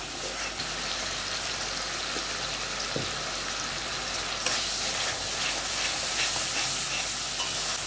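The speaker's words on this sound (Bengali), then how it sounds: "ভালো করে 3-4 মিনিট মতন কষিয়ে এর মধ্যে আমি এবার দিয়ে দেবো ধনেপাতা বাটা।" Lote fish stir-fried with salt and turmeric in a pan, a steady close sizzle with soft scraping stirs, growing a little brighter and hissier partway through.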